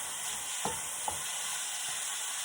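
Onions and peppers sweating in a pan for a chili made without tomato, a faint, even sizzle with two soft stirring taps, no talking.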